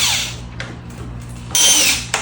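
A power tool whirs in short bursts while screws come out of the daytime running light housing on a Lexus, the motor close and loud and starting and stopping a few times.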